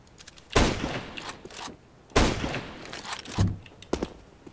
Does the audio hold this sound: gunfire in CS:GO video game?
yes